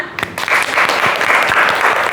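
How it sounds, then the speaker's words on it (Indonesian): A classroom of students in several groups claps after their presentations, a dense, close burst of applause that starts with a few sharp claps and holds steady throughout. "Mari kita berikan aplaus untuk kita semua."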